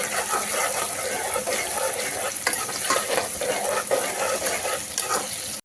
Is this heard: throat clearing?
no